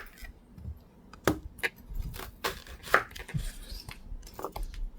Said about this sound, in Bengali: এই 2টা পেঁয়াজই কুচি কুচি করব